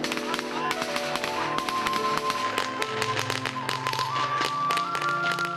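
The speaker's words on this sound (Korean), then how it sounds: "마지막까지 장례행렬을 따르며 폭죽으로 망자와 이별 의식을 쉼없이 하셨는데요" Firecrackers go off during a Yao funeral procession in the mountains of China, a rapid series of sharp cracks under a musical background and narration.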